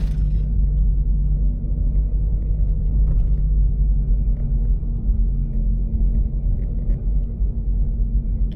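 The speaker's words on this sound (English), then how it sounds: "I'm going to ride around this roundabout here until it calibrates" A car rolls slowly around a quiet neighborhood roundabout, its steady low road rumble and engine drone continuous and close from start to finish, with no talking.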